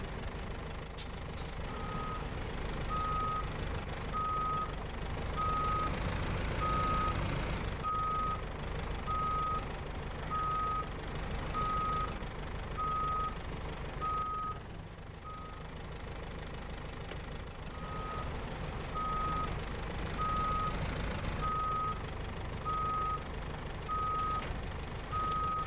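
A truck reversing in the video game SnowRunner gives off a steady, evenly spaced electronic beep that repeats over a loud, rumbling idling engine, with one brief pause midway.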